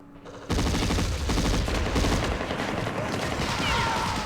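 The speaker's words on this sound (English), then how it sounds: "A full platoon with machine guns." Dense machine gun fire and scattered gunfire from a platoon in the Campaign Series Vietnam war game, Dien Bien Phu battle, bursting in loudly after a short quiet lead-in and continuing as a sustained, close fusillade.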